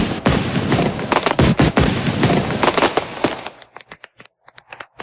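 Rapid, crackling bursts of firecrackers going off in a dense string, loud and close, thinning to scattered pops toward the end.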